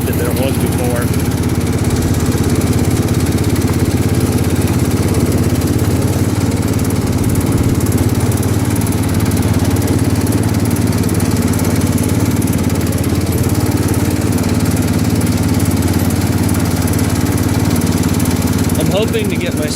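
John Deere 110 garden tractor engine droning steadily and close for the whole stretch, an unbroken mid-pitched running hum with no pauses.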